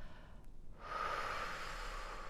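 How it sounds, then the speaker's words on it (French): A person blows out a long, steady breath during a yoga breathing exercise, a soft close whoosh that follows a moment of near silence and lasts over a second. "Je commence par souffler."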